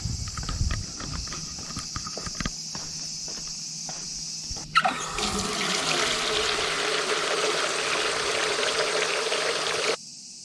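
A tap at a Tokyo allotment garden on a hot August day: a few clatters and knocks, then water gushes in a steady, loud rush for about five seconds before cutting off abruptly.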